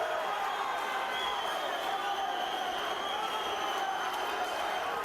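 A boxing arena crowd at a Firat Arslan versus Aleksandr Alekseyev fight roars in a dense, continuous wash of cheering and shouting, heard from a distance without any single voice standing out.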